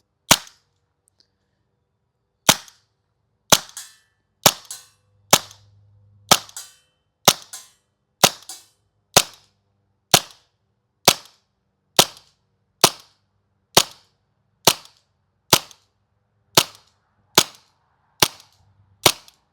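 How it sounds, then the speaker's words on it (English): A WE M712 Mauser gas airsoft pistol fires twenty BBs through a chronograph, each shot a sharp, loud, close pop set apart by pauses of about one second, with silence between them. "We're going to send 20 BBs through the chronograph"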